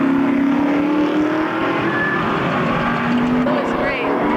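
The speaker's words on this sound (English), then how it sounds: "We're running about 21 cars on this circuit." About twenty-one race cars run on a road circuit at a Shelby club event in Portland, Oregon. Their engines make a continuous, loud, blended roar with shifting pitches as the cars pass.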